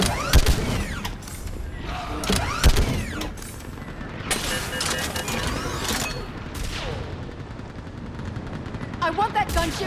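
Battle gunfire in the video game Mass Effect 3, bursts of rapid shots and crashing impacts mixed with shouted voices and mechanical noise in a chaotic firefight.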